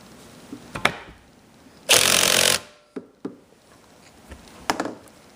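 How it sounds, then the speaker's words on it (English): A battery-powered impact wrench drives the sprocket bolt on a Honda CR125 dirt bike in one short loud hammering burst, with faint clicks and taps of handling before and after. "if you have a battery powered impact, you're going to impact the bolt on"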